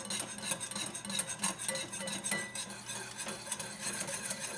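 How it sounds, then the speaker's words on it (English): A whisk beating butter into hollandaise sauce in a bowl, a steady run of fast scraping and light clinking strokes, close and fairly quiet, with no talk. "as long as you're whipping it and the butter is being incorporated into it, you could still add more"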